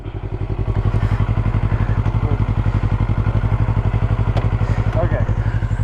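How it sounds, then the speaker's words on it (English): A motorcycle engine running in a parking area, a steady loud rhythmic thumping idle with a fast even pulse throughout, with faint voices and small clatters over it. "You can turn it on without using the clutch."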